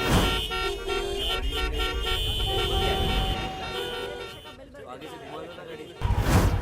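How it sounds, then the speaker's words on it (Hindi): Car horns honk repeatedly in a stalled traffic jam, several tones overlapping above the traffic rumble while people talk. "क्या यार, इतना ट्रैफिक क्यों है?"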